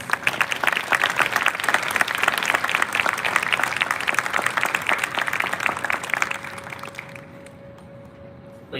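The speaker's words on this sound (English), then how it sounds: "please join us in a round of applause to all award recipients." A large crowd at a military college Constitution Day parade applauds steadily for several seconds, the clapping dense and loud before it thins out and fades near the end.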